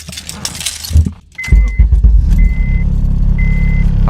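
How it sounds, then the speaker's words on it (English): Keys jangle before a K24-swapped Honda Civic Si cranks and fires into a loud, rumbling idle, while a steady electronic chime beeps in repeated bursts over the engine. "just gonna hop in the car and start the car."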